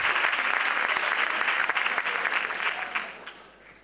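Crowd applause at a carnival proclamation ceremony as a sash and flowers are presented, a dense burst of clapping that holds strong and then fades away over the last second.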